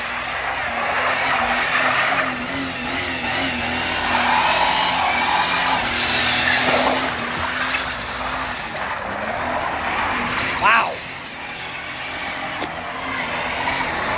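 Jeep Cherokee doing a burnout, engine droning steadily under a long, rough screech of spinning tires that fades off near the end.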